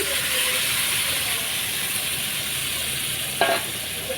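Marinated country chicken sizzles in a wok on the stove, giving a steady close hiss of frying with a brief sharper crackle near the end.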